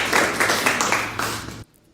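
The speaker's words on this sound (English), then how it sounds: "Big round of applause." A live audience at a legal-advice quiz event applauds, a dense burst of clapping that fills the room for under two seconds, then cuts off abruptly into near silence.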